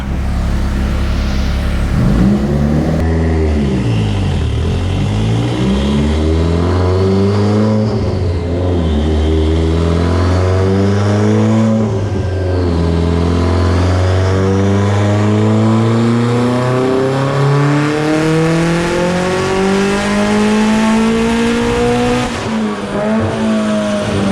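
Turbocharged Mitsubishi Evo X with Garrett GTX3582 turbo, Kelford 214-B cams, 1200 cc injectors and stock block, on a dyno for base runs: loud engine revving through repeated rising and falling pitch sweeps, close and sustained.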